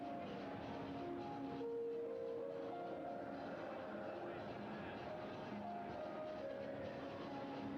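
Train ride ambience from the video game Resident Evil 0, a steady rumbling rail-car drone with faint rhythmic clatter, continuous and moderately loud, with indistinct voices mixed in.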